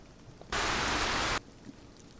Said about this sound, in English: That was a storm coming through.